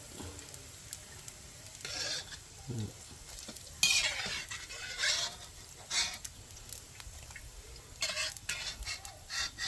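Rice crackers frying in oil over medium heat: a soft bubbling sizzle underlies irregular bursts of stirring and scraping, with clinks of utensils against the pan, fairly close.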